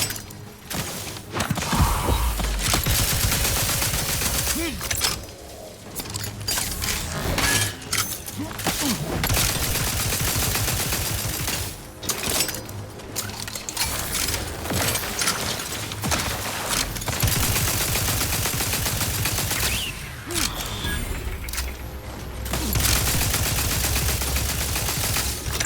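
Automatic turret fire in the video game The Outer Worlds 2 rattles in loud, dense bursts with short gaps, mixed with mechanical clanks and thuds across a long, intense firefight.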